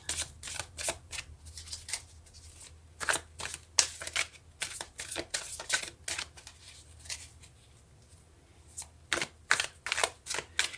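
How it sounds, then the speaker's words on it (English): Tarot cards are shuffled repeatedly in quick riffles, crisp flapping bursts close by, pausing briefly between rounds. "it's really important today for me to just shuffle the cards"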